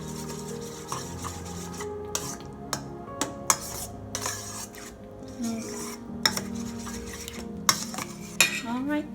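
A whole can of condensed milk is mixed in a bowl for a mango float dessert. The utensil scrapes and clinks against the bowl in repeated close strokes, and faint background tones sit underneath.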